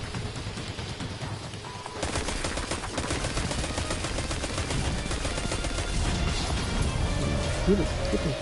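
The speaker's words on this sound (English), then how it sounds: "it's freaking cannons" Cannon fire in a multiplayer video game, a dense continuous barrage of rapid booming shots and crackling impacts that fills the scene at steady loudness, with no talking.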